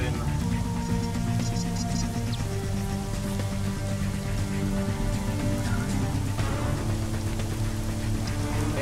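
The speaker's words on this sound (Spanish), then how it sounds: "Creo que está lloviendo" Rain falling in the video game Arma 3, a constant dense patter of drops over a steady wash of game ambience and tonal background sound, loud and unbroken throughout.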